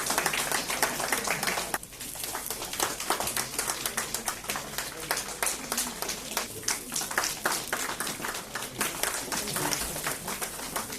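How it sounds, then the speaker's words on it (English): An audience at a medical conference in Pahalgam breaks into scattered applause; individual claps ring out sharp and distinct, with a brief dip partway through before the clapping picks back up and continues unevenly. "a big round of applause"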